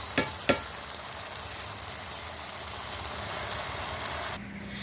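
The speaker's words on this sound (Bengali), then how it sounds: "আমি এই পুরটাকে ভাজা ভাজা করে রান্না করে নিচ্ছি" A loud, continuous sizzle of meat filling frying in a hot pan, with a couple of sharp clicks at the start and a sudden stop.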